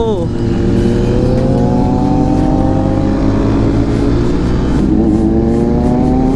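Hayabusa superbikes revving nearby outdoors, a loud, steady, high-pitched engine roar with rising and falling pitch across several seconds, with voices mixed into the noise.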